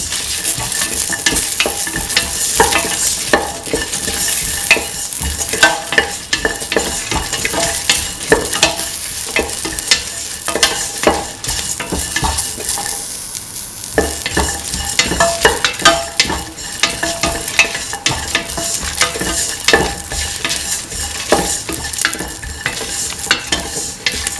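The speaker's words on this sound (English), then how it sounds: "Put in the garlic. Mix thoroughly." Garlic frying and being stirred in a pan for a lentil carrot stew, a loud steady sizzle broken by repeated scraping stirs of the spoon, with no talking.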